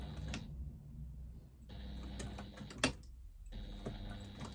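A home sewing machine stitches a square through faux leather and felt, with a soft rapid ticking whir that starts and stops in short bursts and one sharper click, faint and close with no voices.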